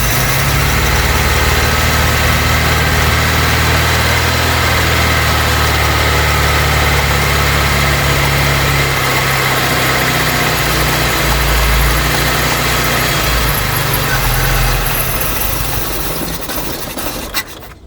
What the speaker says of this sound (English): need to adjust the idle now because obviously where I've moved it, it's not right